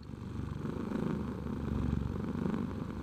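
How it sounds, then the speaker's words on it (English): A cat purrs steadily in an Unreal Engine 5.3 VR scene, a close, continuous low rhythmic rumble with no other sounds. "seems like the kind of weather where you'd want to curl up with a cat and stroke it"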